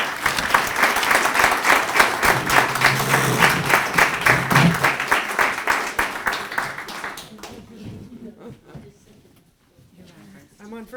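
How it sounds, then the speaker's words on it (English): Audience applause at a community discussion event, a dense, loud clapping crowd sustained for about seven seconds before thinning out and fading to scattered claps and quiet. "So will you please give a round of applause for Catherine and Karen."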